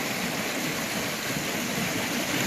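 Floodwater rushes fast through piled wood debris, a dense, steady roar of turbulent flow that fills the whole moment without pause, loud and close, with no voices.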